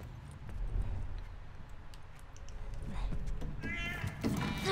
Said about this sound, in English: You stupid cat!